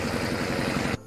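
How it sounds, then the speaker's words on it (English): A Scania V8 truck engine rumbles through its exhaust with a deep, pulsing low throb, close and steady, before cutting off abruptly just before the end. "The deep, vibrating bass of its exhaust rumbles right down to your bones."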